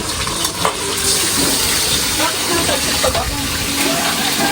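Food being stirred in a pan with a ladle, a continuous close scraping and sizzling clatter with a few sharp knocks, while people talk over it.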